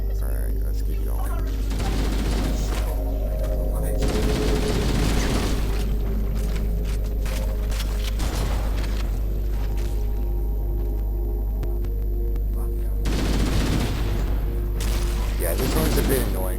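A chain reaction of explosions bursts in the shooter video game Halo: CEA, with repeated heavy booms and crackling blasts over a constant low rumble and gunfire, loud and sustained throughout.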